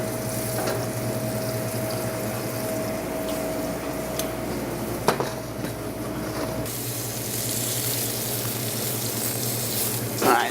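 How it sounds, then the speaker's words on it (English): Chicken sears in a hot greased pan with a steady, close sizzle and crackle under a constant hum, spitting softly throughout with a brief louder pop midway and no talking. "You can hear that sizzle."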